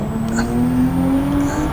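A Nissan Fairlady Z engine in Gran Turismo 7 climbs steadily in pitch as it accelerates, then gives a quick upshift, a loud, close, continuous game-engine drone.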